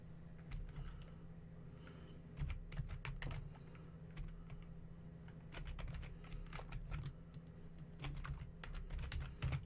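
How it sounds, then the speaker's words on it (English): Typing on a computer keyboard, a steady stream of quick key clicks in uneven bursts over a low hum, close and moderately quiet, no speech. "Let me type it in, Conservative Nation."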